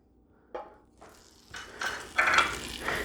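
A soft clink of a utensil, then a rising sizzle as butter hits a hot pan, crackling in bursts for a few seconds.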